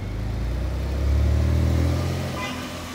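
A Porsche 992 pulls away, its engine note swelling to a mid-clip peak and then easing off as the car moves into the distance, heard over steady street background with no talk.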